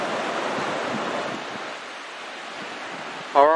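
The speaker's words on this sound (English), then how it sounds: "River looks good." The South Platte River in Colorado flowing, a steady rushing wash of water with some wind noise, close and continuous, ending in a brief sharp tonal sound.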